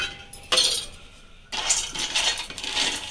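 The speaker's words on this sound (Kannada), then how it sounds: "ಕಡಲೆಕಾಯಿ ಬೀಜನ ಹುರ್ಕೊಳ್ಳೋಣ." Peanuts dry-roasting in a pan make bursts of light rattling and clinking as they are stirred: one short burst, then a longer stretch of scattered clatter, fairly close and with no talking.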